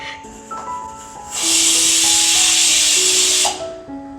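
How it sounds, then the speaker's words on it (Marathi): A kitchen pressure cooker lets off a loud, steady burst of hissing steam lasting about two seconds, with quieter tonal kitchen sounds before and after. "कुकर ऑलरेडी लावलेला आहे"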